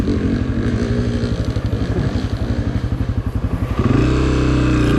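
A Honda CRF250F dirt bike engine chatters loudly up close during a hare scramble race, its rapid firing pulses holding steady then rising into a higher, strained rev near the end as the clutch is slipped.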